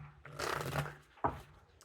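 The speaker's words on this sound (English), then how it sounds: "We'll do 2 more shuffles." Tarot cards are shuffled in two quick, soft bursts, close and quiet, with a faint voice in the background.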